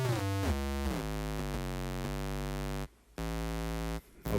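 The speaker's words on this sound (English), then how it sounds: "Another new synth, so let's go and make it a bass." Deep bass synth notes stepping through a sequenced pattern on a Synthstrom Deluge, loud and steady with sustained tones changing pitch, cut by two brief silent gaps near the end.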